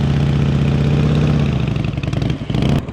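Motorcycle engine during slow-speed riding practice, idling and loping near the camera with uneven throttle pulses and clattery rattling, steady then choppier toward the end.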